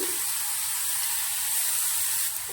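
Grated ash gourd pumpkin fries in ghee in a pan with a steady, close sizzling hiss that carries evenly through the whole short stretch, alone with no talk over it.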